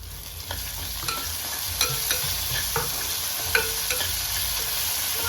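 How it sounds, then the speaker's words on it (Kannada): Onions and half a tomato frying in a pan for kanda poha, with a steady sizzle under repeated scrapes and taps of a spatula stirring the pan, no talking. "ಇವಾಗ ನೋಡ್ಬೋದು ಉಳ್ಳಾಗಡ್ಡಿನ ಚೆನ್ನಾಗೆ ಬೇಯ್ತಾವು. ಇದ್ರೊಳಗೆ ಸ್ವಲ್ಪ ಅರ್ಧ ಟೊಮೆಟೊ ಹಾಕ್ಕೊಳ್ತೀನಿ ನಾನು."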